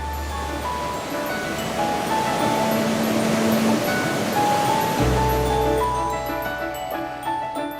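Ocean surf rolling and breaking on Bondi Beach in Sydney, a steady broadband wash of waves heard continuously and fairly loud, with a low rumble swelling midway and faint tonal background sounds.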